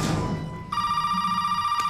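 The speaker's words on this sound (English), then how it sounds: "Then the phone rings, which I'm gonna go pick up." A telephone rings in Resident Evil 7, a steady electronic ring that starts partway through and holds bright and clear against a dark, low ambient rumble, with no one talking.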